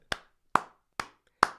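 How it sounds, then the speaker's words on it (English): Four sharp, evenly spaced hand claps ring out close and dry with brief decays, a lone person clapping rather than a full crowd, with no talking. "round of applause for the football"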